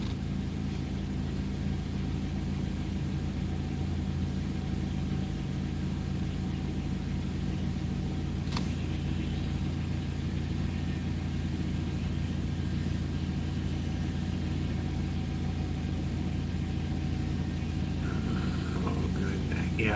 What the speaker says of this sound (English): we probably got a school bus or something down here